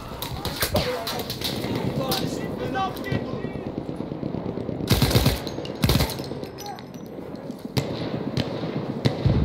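Gunfire from Battlefield 1 multiplayer Rush mode, with rapid machine-gun bursts and louder shot clusters over continuous battlefield din, while players talk over the action.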